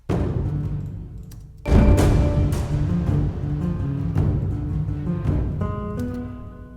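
Orchestral strings struck col legno with the wood of the bow, washed in reverb and a programmed delay, sound as a sudden loud percussive entry near the two-second mark, then a sustained, echoing pulse with repeated clicky attacks.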